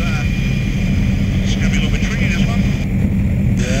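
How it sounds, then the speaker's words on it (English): Steady, loud rotor and engine roar from a nearby helicopter washing live power lines fills the whole stretch, with voices faintly mixed in. "Brett is constantly monitoring parts of the helicopter the pilot Dan can't see."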